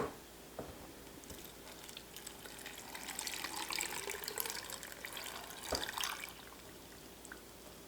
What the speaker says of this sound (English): I'm gonna pour in my saltwater brine